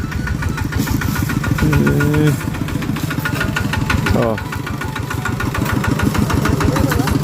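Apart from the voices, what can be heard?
farm tractor engine running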